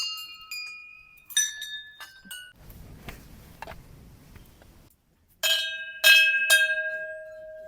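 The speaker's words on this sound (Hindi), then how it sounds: "यहाँ पे घंटियाँ लगी हुई हैं और यहाँ से आप घंटियाँ बजाते हुए" Metal temple bells at Tadkeshwar Mahadev temple near Lansdowne are struck repeatedly, each bright clang ringing out and decaying. A few strikes come early, then a quieter rustling stretch, then a louder cluster of rings near the end.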